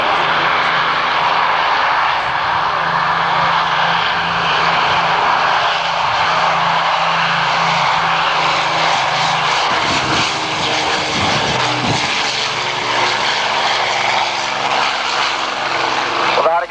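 Hawker Hurricane and Avro Lancaster propeller aircraft flying past, a loud continuous piston-engine drone with shifting pitch as they pass.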